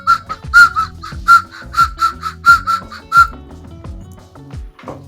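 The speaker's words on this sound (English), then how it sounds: "Pro train whistle player now." A train whistle blown in bursts, a run of roughly eight sharp, shrill toots in a quick uneven rhythm. The toots are close and loud, then fade into a quieter tail with no talking over them.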